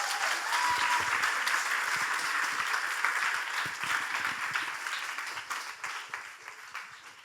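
Audience applause at a youth leadership summit closing and award ceremony: dense, sustained clapping from a large crowd at moderate level, gradually tapering off toward the end.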